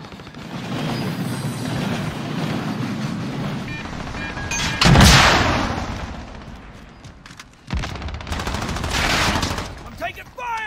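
Gunfire from Call of Duty Modern Warfare, with rapid bursts and a loud blast near the middle, followed by sharp reports. Continuous game noise runs underneath, and speech-like sound is mixed in.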